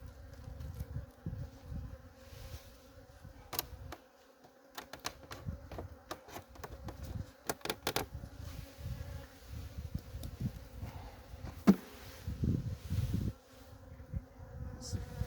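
Honeybees from a queenless hive buzz steadily and close throughout, a continuous low droning swarm sound with scattered sharp clicks and taps over it.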